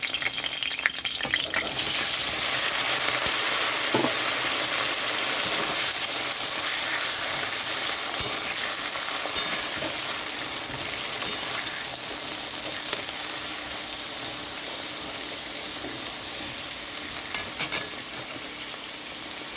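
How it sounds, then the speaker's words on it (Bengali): Eggplant pieces fry in hot oil in a pan, giving a steady, bright sizzle and hiss with occasional pops and stirring clatter throughout. "এখানে তেলের মধ্যে এখন বেগুনগুলো দিয়ে দিচ্ছি।"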